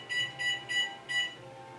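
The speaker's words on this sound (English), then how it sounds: "I'm actually going to set a timer" A kitchen timer beeps four times in a quick, evenly spaced series of bright electronic tones, close and moderately loud, while cakes are being made.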